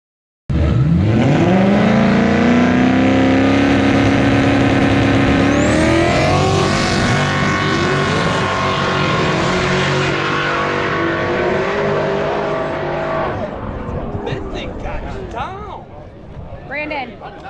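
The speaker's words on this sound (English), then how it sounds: "A full-fledged Cobra Jet race car on slicks." A Ford Cobra Jet drag race car on slicks roars loud and close, its engine note climbing through hard acceleration runs with gear changes. The noise fades toward the end, leaving scattered higher tones.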